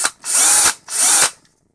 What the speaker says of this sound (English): So before I put the screws back in, let's try a drill.